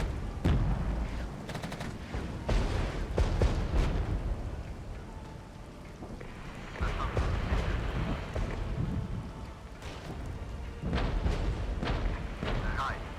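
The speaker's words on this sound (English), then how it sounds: "And artillery should finish them off." Artillery fire in the Regiments war game at night, with repeated heavy booms and rumbling blasts rolling through a dense battle din, some impacts close and loud, others distant.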